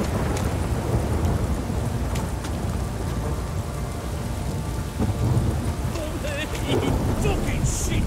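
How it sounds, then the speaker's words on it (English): A rainstorm with thunder in the video game The Witcher 3: Wild Hunt roars loudly and steadily, with dense rain and low rumbling throughout and occasional faint voices beneath. "It's raining right now."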